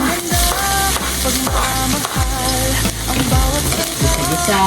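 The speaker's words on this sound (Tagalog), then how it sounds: "Umpisahan na natin ang paggisa ng bawang." Garlic sautéing for chicken and pork adobo, a steady loud sizzle of frying in a pan with repeated stirring scrapes and background music tones layered throughout, no talking.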